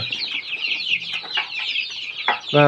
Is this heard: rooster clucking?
yes